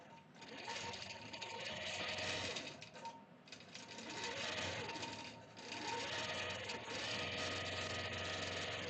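A Gammill longarm quilting machine stitches across a quilt, a steady fast needle chatter with motor hum that swells and eases in slow waves, one short pause early on, fairly quiet and close.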